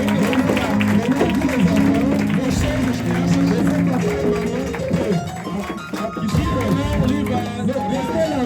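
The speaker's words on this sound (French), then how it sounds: "Applaudissez très fort pour cela." Guests at a wedding anniversary celebration break into applause and cheering, a dense continuous wash of clapping and crowd noise mixed with voices and music throughout.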